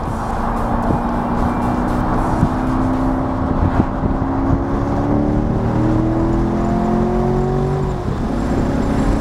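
A Chevrolet C7 Corvette engine drones steadily from inside the moving car, its pitch climbing through the gears in several rising sweeps, each followed by a shift.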